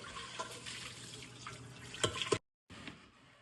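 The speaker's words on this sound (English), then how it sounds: "I'm going to wash out the pot right now and put on water." Tap water runs into a soup pot being washed out in a home kitchen, a faint splashing hiss with a few clunks of the pot, cut off briefly and then resuming.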